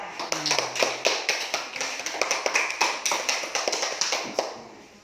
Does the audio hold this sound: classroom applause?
yes